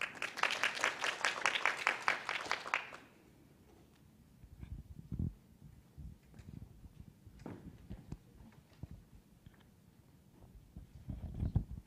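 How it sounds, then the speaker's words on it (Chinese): Audience applause welcoming a trade bureau official to the podium at a Taiwan Excellence briefing in Taipei, a dense burst of clapping lasting about three seconds before fading into quiet room noise and light shuffling. "掌声欢迎张组长"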